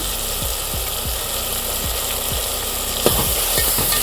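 Steady sizzling of ginger garlic paste frying in a hot pan for quail gravy, with a soft scraping stir and a low engine-like hum beneath.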